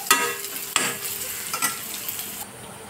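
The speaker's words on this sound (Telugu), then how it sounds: "అల్లం వెల్లుల్లి పేస్ట్ వేసాం కదా, కొంచెం పచ్చివాసన పోయేంత వరకు వీటిని వేయించుకోవాలి" Ginger-garlic paste fries in oil in a pan with a steady crackling hiss, broken by a few sharp scraping strokes as a spoon stirs it, close and moderately loud.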